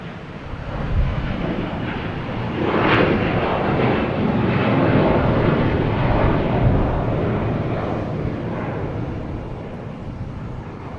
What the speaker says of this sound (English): We have a Delta A321 heading to Minneapolis.